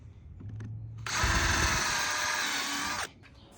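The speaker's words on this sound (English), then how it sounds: "take your drill." A power drill whirs loudly for about two seconds as it drives a screw into an Azek deck step built over concrete, with faint handling noises before and after the run.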